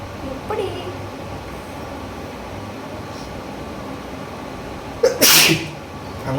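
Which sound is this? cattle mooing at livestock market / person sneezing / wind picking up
person sneezing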